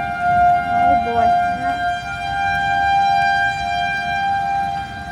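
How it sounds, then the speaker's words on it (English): Long steady wail of tornado warning sirens holding a high tone in the distance, with brief murmured voices at the start. "they're still sounding the sirens because it's the county"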